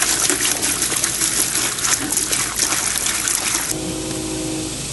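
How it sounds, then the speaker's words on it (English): Vinegar pours and gushes into a pump setup for descaling a Navien NR tankless water heater, a steady close liquid splash that settles into a quieter trickle with a faint pump hum. "And then we're going to open up our vinegar, pour it in"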